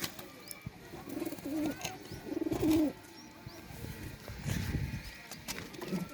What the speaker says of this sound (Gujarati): આ છે આપણા કબૂતર